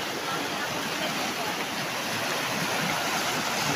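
Floodwater rushes over a bridge in Barangay Dalig, a loud, continuous broadband roar of torrent heard up close without a break.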